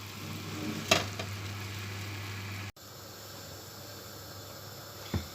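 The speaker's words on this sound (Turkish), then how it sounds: "Kızarıyor. Mis gibi kızarıyor." Oil sizzles quietly and steadily as yufka pastry for baklava fries, with a couple of small clicks and a brief gap partway through.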